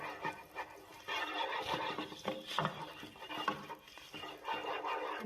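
Cumin seeds sautéing in a pan while making chana daal fry, a continuous soft sizzle and crackle with stirring and scraping against the pan, fairly steady throughout, with no talking.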